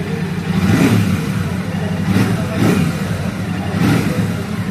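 A Royal Enfield Shotgun 650 motorcycle engine is revved close by, with about four throttle blips rising over a deep, rumbling idle.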